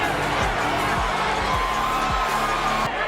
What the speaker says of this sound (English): Crowd's encouraging him.